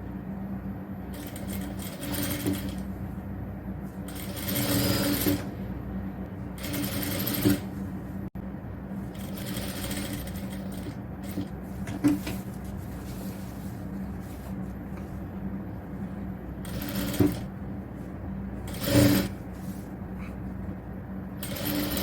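Sewing machine stitching a fabric lining onto the front neck of a nighty, running in repeated bursts of rapid mechanical whirring separated by short quieter pauses.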